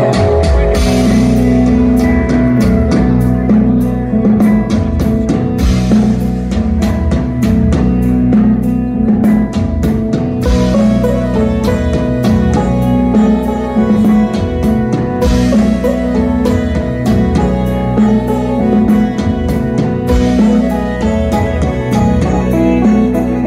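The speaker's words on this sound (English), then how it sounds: "It's a great little guitar." A small guitar is played live at a concert at Chateau Ste Michelle winery, with ringing notes and chords sounding clearly and continuously for over twenty seconds, alone without talk.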